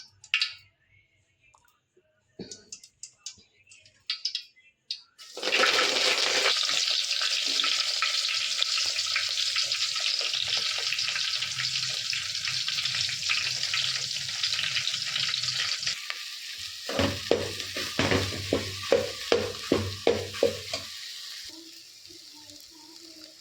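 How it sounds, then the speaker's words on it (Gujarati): Potatoes are dropped into hot oil for tempering. A sudden loud sizzle starts after some brief clatter, then a steady crackling fry continues with occasional stirring knocks and no talking. "જો આપણે બટેટા વઘાર નાખ્યા સૂકી ભાજી વઘારીએ ને"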